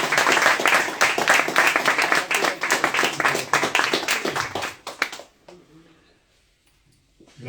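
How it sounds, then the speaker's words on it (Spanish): Audience applause welcoming Gustavo Faverón at a literary event, dense and loud for about five seconds, then dying away to near silence. "recibamos con el aplauso que se merece a Gustavo Faverón"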